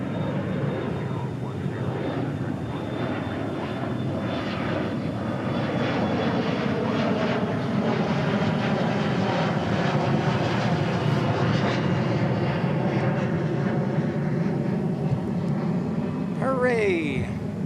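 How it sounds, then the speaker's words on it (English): Airliner departing Dallas/Fort Worth airport for San Antonio, a steady jet engine roar that swells slightly and holds, heard from a distance, ending with a brief high chirp. "Hey, we got an actual departure. Hooray! Going to San Antonio."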